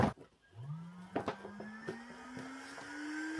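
A hair dryer brush motor whines up and settles into a rising, steady hum, close by, with scattered clicks and rustling handling noises around it.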